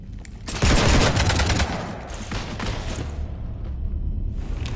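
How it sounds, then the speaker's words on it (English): Heavy gunfire in a Mass Effect 3 firefight aboard a ship, a loud sustained fusillade of rapid shots and booming impacts that surges, then thins into a continuing rumble of fire. "You want to stop shooting up my ship?"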